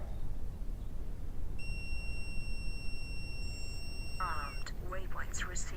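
An S550 drone flight controller gives a steady electronic beep on arming, a sustained pure tone lasting about three seconds that ends abruptly, over constant background hiss and followed by brief faint chirps.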